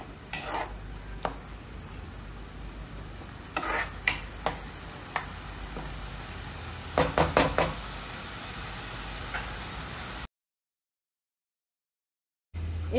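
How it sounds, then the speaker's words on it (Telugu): Tomatoes fry in a pan for a prawn curry, giving a steady low sizzle broken by sharp stirring clicks and scrapes of a utensil, with a brief gap of silence near the end. "ఇవన్నీ మంచిగా మెత్తగా అన్ని మగ్గాలి. మగ్గేదాకా మనం వీటిని వేపుకోవాలి."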